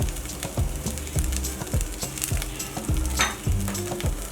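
Keema mince with green chillies and coriander gets stirred in a sizzling karahi, with rhythmic scraping strokes about every half second over a constant frying hiss.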